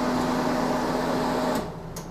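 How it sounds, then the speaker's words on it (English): Range hood fan in a 2022 Keystone Cougar 29RKS RV whirs steadily with a low hum, then cuts off partway through, leaving a quieter background with a couple of faint clicks. "Here is your hood fan and light."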